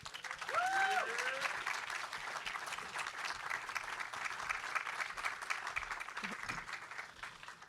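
Audience applause fills a SXSW 2023 music and entrepreneurship panel, steady broadband clapping from a crowd that holds across the whole stretch, with faint voices and a whistle near the start.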